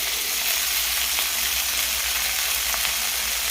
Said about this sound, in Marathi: मस्तपैकी लसूणही परतलेला आहे